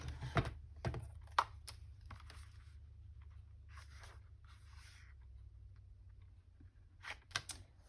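Scissors snip through decorative paper in a quiet room, a few sharp close cuts near the start, then faint rustling and scraping, and a final small cluster of snips at the end.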